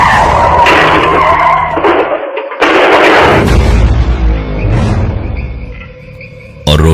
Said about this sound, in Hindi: गाड़ी सीधे सामने पेड़ से जा टकराई।